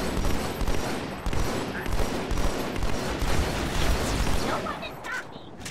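Rapid gunfire from the Halo 2 shooter crackles continuously, with dense overlapping shots and thumps for several seconds and a player talking over it.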